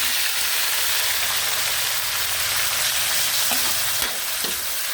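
Balbacua ingredients are sautéed in a pan, a loud, steady frying sizzle with a few faint clicks and scrapes from stirring and no talk.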